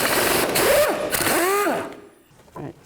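A socket wrench works a bolt loose from the rear shock of a Kia Sorento, giving loud close metallic ratcheting and scraping bursts, then a brief clank near the end.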